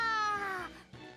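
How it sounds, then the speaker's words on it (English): A cat meows in the video game Tales of Berseria, one clear, drawn-out meow with a falling pitch, loud and close, followed by a fainter short second call. "The nearby cat."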